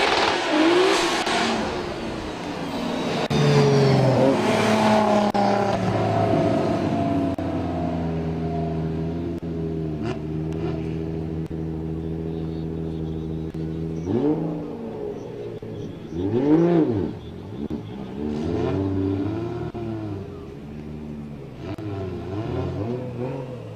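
A BMW race car accelerates hard up the Calmont touge hill climb course, its engine revving loudly through rising gear pulls before easing off and revving again, heard at close range.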